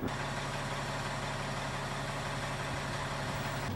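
A fire engine idles during hydrant hose-lay training, a steady low mechanical rumble that holds evenly and fairly quietly throughout, with no voices over it.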